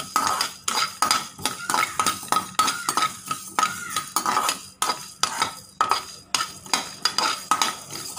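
Spices dry-roasted in a pan without oil for Chettinad fish curry, steady rhythmic scraping and clinking of a spatula against the pan, close and repetitive, with only a faint sizzle and no talking.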